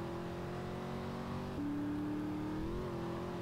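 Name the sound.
car driving in video game GTA San Andreas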